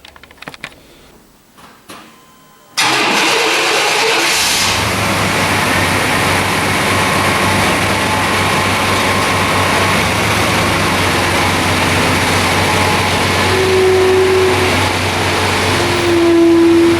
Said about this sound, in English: I'm going to go move the truck forward so we can get behind it